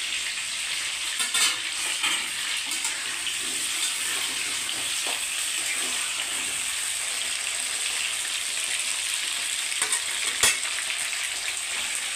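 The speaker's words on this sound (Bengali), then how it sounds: "এটাকে একটু ভেজে নিতে হবে আলুর সাথে" Fish being fried with potatoes in a pan, a steady close sizzle filling the whole stretch, with brief clinks and stirring scrapes now and then.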